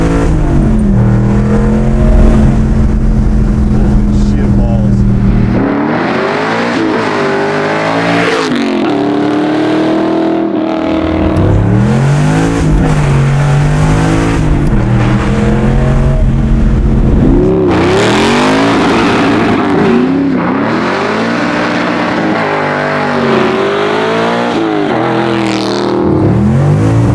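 A Pro Street 1967 Chevy Nova accelerates hard through repeated loud, close pulls, its V8 roaring and climbing through gear changes, with a deep rumble between bursts.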